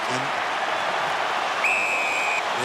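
A large Australian rules football crowd at a 2011 West Coast Eagles versus Carlton semi final keeps up a continuous roar after a free kick near goal, with scattered clapping and a sustained whistle tone partway through.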